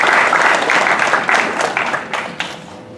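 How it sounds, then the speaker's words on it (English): An audience at a mental health keynote gives a loud round of applause, dense clapping that holds steady and then thins and fades toward the end. "a huge round of applause for Ali Jawad Ismail and the Youth Society"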